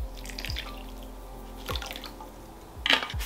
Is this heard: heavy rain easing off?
no